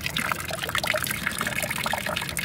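Wasted water trickling steadily into a bucket set out to catch it in a city street area used by car washers, a continuous close splashing dribble with no talk.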